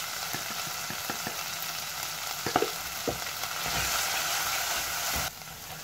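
Browned onions fry with turmeric powder for mustard hilsa, a close, even sizzle with a few quick spatula clicks and scrapes, swelling louder midway before cutting off abruptly near the end.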